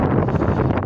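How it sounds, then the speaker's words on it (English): A strong north wind blows straight onto the microphone outdoors, producing a dense, steady buffeting roar with low rumbling gusts that fill the whole moment. "Nasty wind from the north."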